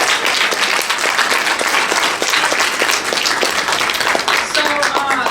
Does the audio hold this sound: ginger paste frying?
no